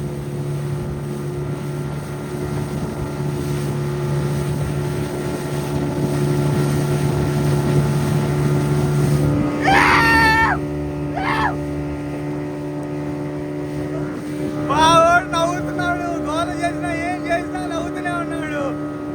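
A boat running on the sea off Goa drones with a steady engine hum and buffeting wind, while voices talk over it in short bursts partway through.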